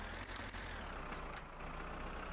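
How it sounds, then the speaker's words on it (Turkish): A tractor engine in the driving game My Summer Car runs with a steady, low, continuous rumble at moderate volume and no clear changes in revs, with no speech. "Traktör kullanalım ya."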